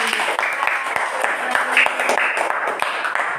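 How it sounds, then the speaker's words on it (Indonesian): A school class applauds after a group presentation, scattered claps from a room of students in a classroom, moderate and continuous with some louder individual claps standing out. "Kita kasih tepuk tangan sekali lagi."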